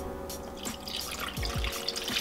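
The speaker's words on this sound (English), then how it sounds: "And then we're gonna pour in 1¼ cup of filtered water." Filtered water runs and splashes steadily into a bowl of sourdough ingredients, with a few dripping, gurgling accents, close and moderately loud with no talking.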